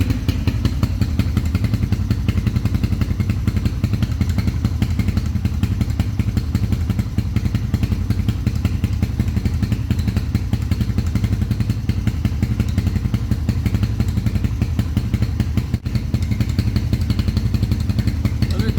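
A motorcycle engine with a modified dB killer in its muffler runs steadily with a loud, low, throaty exhaust rumble and rapid pulsing beat, holding a constant idle-like tone throughout.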